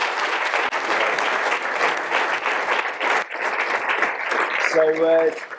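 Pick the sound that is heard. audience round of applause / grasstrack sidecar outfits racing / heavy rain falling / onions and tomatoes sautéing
audience round of applause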